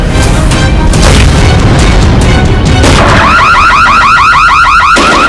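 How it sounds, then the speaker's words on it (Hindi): A burglar alarm in a TV crime drama wails in rising, repeating siren sweeps, loud and close, after a burst of heavy banging and crashing noise as a door is broken in. "ये तो चोर अलार्म है।"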